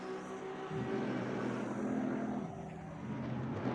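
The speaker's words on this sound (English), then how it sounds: "Maybe the volume of the cars may be a little too loud there." GT race cars in the Assetto Corsa Competizione video game at the Hungaroring drone past, a steady engine whine rising and holding at moderate distance, with no talking over it.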